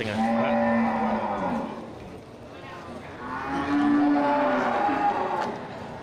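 A Simmental crossed with Aceh cattle moos twice at a livestock sale of local cattle for meugang slaughter; two long, loud, drawn-out calls, close by, with a short quieter gap between them.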